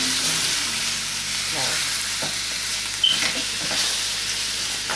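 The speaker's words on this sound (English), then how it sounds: "Stir fry natin itong rib." Pork spareribs stir-frying in hot oil in a Salad Master skillet: a continuous loud sizzle and crackle with a few spatula scrapes and a sharp clink partway through, no speech.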